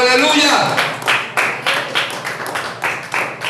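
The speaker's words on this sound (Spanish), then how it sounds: "Ese aplauso al Señor, aleluya" Church congregation clapping at a Spanish-language evangelical service, loud rhythmic claps in rough unison, with a voice speaking over the start.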